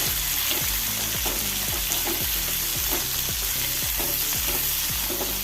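Onions with salt stir-fried in a pan for chicken chilli: loud, steady sizzling with regular rhythmic scraping strokes of the spatula, close and alone without talk.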